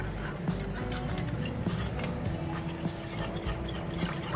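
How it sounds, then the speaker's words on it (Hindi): Condensed milk is stirred with a spoon to dissolve it for a no-oven chocolate cake, making a steady, faint swishing with light, regularly spaced scrapes against the bowl. "आप कंडेंस मिल्क भी ले सकती हैं। और इसको मिक्स करेंगे अच्छी तरह"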